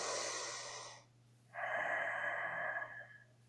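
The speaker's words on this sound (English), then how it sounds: "I do this thing called Ujjayi breathing" Two slow breaths with a constricted throat, Ujjayi style: a long hissing inhale through the nose, a short pause, then an exhale that sounds like fogging a mirror. Both are close and soft, with a faint steady hum underneath.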